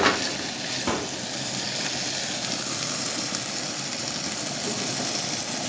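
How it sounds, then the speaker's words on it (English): A steak sizzles steadily in a hot frying pan for a quesadilla, giving a continuous broadband hiss that stays even and fairly close throughout, with no talking. "we're going to let that finish sizzling there"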